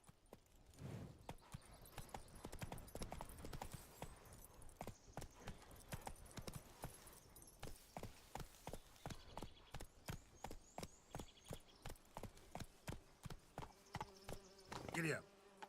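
Hooves of the horse Roach clip-clop in The Witcher 3 game, a steady walking rhythm of distinct hoofbeats that becomes more regular toward the end, with soft ambient insect buzz around.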